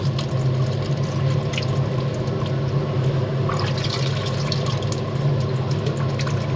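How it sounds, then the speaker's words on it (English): A pump circulates warm water while sugar syrup for feeding bees is mixed, heated by an immersion heater, giving a steady, continuous watery churn with faint drips, close and even throughout with no talking. "leave the pump to circulate that warm water"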